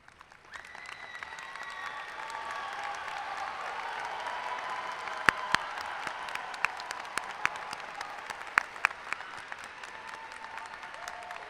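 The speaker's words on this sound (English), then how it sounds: "anyone who has received any type of scholarship or award, please stand and receive a well-deserved applause" Scholarship and award recipients at a Franklin graduation ceremony in 2018 receive a sustained round of applause from a large crowd, building up and holding steady, with scattered louder individual claps standing out.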